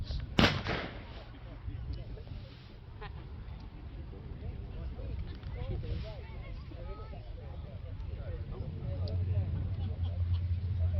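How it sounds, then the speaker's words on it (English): A gunfire effect goes off during a warbird display at the RAF Woodchurch air show, as a plane painted like a Zero comes in. One sharp, loud bang opens, then a low outdoor rumble continues under a voice. "Gunshots."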